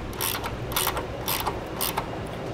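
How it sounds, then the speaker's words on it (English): Socket wrench ratcheting a 9/16 bolt tight on a Blue Ox base plate on a 2002 Honda CR-V, four quick bursts of rapid ratchet clicking, close and clear. "All right, we have a wrench holding the nut in place, and now we'll snug down the bolt."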